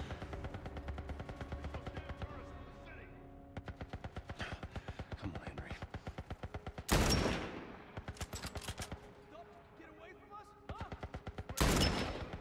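Gunfire in The Last of Us Part 1, repeated rapid bursts of shots and a few heavy booming blasts, mixed with game sounds and a voice talking over parts of it.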